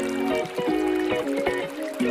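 Lo-fi music from a subliminal video, playing steadily with sustained tonal chords and soft rhythmic pulses throughout, moderately loud with no talking.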